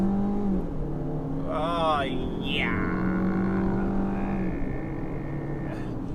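A 2017 Jeep Patriot revs under acceleration, its engine tone climbing and shifting as it pulls away, loud and close inside the cabin, with a brief exclamation from the driver.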